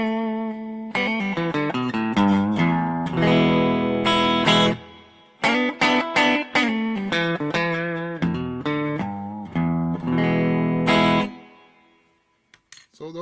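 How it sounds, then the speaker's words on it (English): Electric guitar notes and chords ring out through the plate reverb setting of a Boss IR-2 pedal, with a lush, lingering reverb tail. Phrases are separated by short pauses, and the last chord fades away slowly. "this is our plate reverb"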